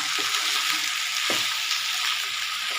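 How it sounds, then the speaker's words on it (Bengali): Leftover rice with ginger, garlic, onion and a little sugar frying in a pan gives a steady, close, loud sizzling hiss that fills the short stretch without any talking. "এবারে আমি এটা ভালো করে যেভাবে ভাজে আমি ভাজাটা করে নেব"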